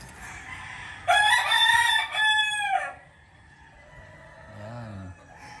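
A rooster lets out one loud, full cock-a-doodle-doo that rises and trails off, followed by a few softer clucks against quiet background noise.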